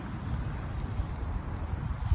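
Steady wind blows outdoors at a Christmas decoration display, a constant low rumble of gusts buffeting the microphone with no distinct pauses.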